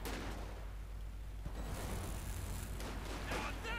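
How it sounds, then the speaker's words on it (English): Rocket barrage from a Panzerwerfer in Company of Heroes 2, a dense rumbling wash of launches and explosions with a steady roar of battle and some mechanical clatter throughout. "Panzerwerfer unleashes another murderous barrage, but straight at the wrong point."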